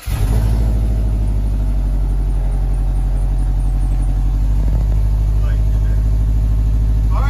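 A Subaru WRX engine runs steadily at idle after starting, a loud, continuous low rumble with a brief surge near the start, while people talk over it.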